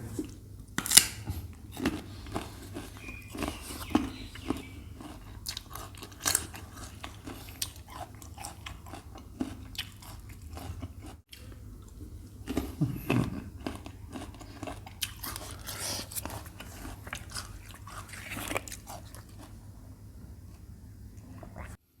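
Someone chews water olives close to the mic, with crisp crunchy bites and wet chomping repeated steadily over a quiet background, plus occasional faint mouth noises.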